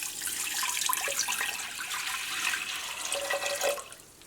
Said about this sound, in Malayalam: ഈ പരിപ്പ് വേവിച്ചെടുക്കാൻ വേണ്ടിയിട്ട് ഇതിലേക്ക് വെള്ളം ചേർക്കാം.